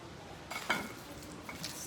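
Fishcake paste bound with egg white being stirred by hand, a short, soft wet squelching and smearing sound, close and alone.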